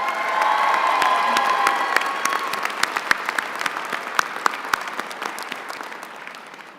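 Steady applause from a large crowd at a university commencement, loud at first and gradually thinning out, with a few sharp individual claps standing out near the end.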